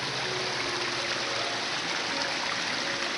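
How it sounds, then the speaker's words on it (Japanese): Water pouring at one of the Akame 48 Waterfalls in Japan, a steady, loud, broadband rushing roar that continues unbroken throughout. "ここが第一の滝です"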